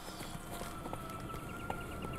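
A horse's hooves clip-clop at a walk in The Witcher 3, faint steady hoofbeats beneath a dense ambient game soundscape.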